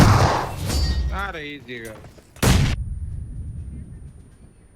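A grenade blasts in a shooter video game, one sudden loud boom that decays into a fading rumble, following a stretch of excited talking.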